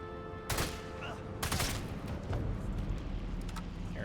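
Two sharp rifle shots from the sniper game Sniper Elite 5, loud and close, the first near half a second and the second about a second later, over a busy rumbling game soundtrack.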